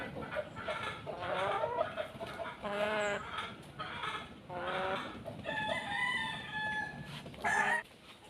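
A Golden Boy Sweater gamecock rooster crossed with Pumpkin crows in a yard, a few drawn-out harmonic calls with clucking and other fowl nearby, fairly faint.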